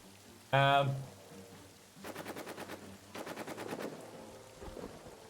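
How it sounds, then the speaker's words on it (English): A machine gun in the trench-warfare game All Quiet in the Trenches fires two distant bursts of rapid rattling shots, then a brief short burst, following a loud tonal blast at the start. "There's our machine gun we have to take out just back there."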